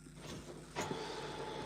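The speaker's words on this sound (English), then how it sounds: "Sorry, I just turned on my printer." Home printer switching on, a soft whirring motor hum that rises with a click partway through, then settles into a steady mechanical drone with a faint tone.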